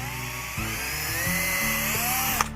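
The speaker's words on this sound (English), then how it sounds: "So I'm gonna take my drill" A power drill bores a 1/8 inch hole in a tire wheel, heard as a steady, close, high-pitched whine whose motor pitch shifts and stutters as the bit bites, ending in a brief sharp click.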